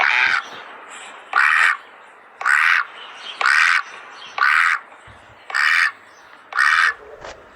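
Ducks quack in seven evenly spaced, loud, nasal bursts, each about half a second long, with short quiet gaps between them over a dim background. No speech is heard.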